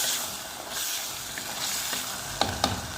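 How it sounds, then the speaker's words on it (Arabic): Chicken fries in oil on a stove with a steady close sizzle and a couple of sharper pops near the end, no talking. "نحطهم فوق النار ونخلي كلشي يتقلى"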